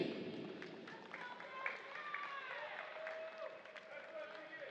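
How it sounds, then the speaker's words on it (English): At a FIBA Women's Melanesia basketball game between New Caledonia and Papua New Guinea, a crowd gives Team PNG a round of applause, faint, steady clapping with voices and shouts over it. "Please give a big round of applause to Team PNG"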